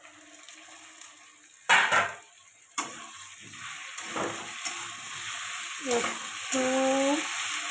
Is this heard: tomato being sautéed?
yes